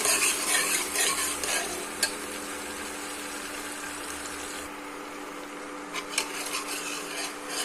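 Onion and garlic fry in oil in a pan for mung dal, a fairly quiet steady sizzle with scraping stirs and a few sharper clinks of the spoon against the pan, nearby and without talk.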